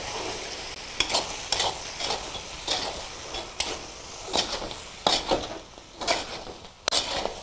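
Beef chaap with green chilies being stirred and turned in a hot pan, a steady frying sizzle broken by repeated scraping strokes of a spoon against the pan, close and fairly loud, with no talking.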